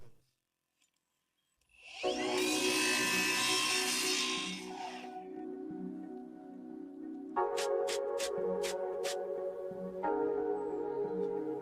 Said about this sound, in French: je vais couper les angles appropriés.